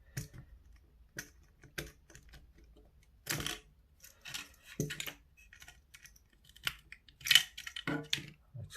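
Tape peeled off a DIY arcade stick built around a PS4 controller board, heard as a series of short crackling rips and tearing bursts that come and go close up, with quiet pauses between them.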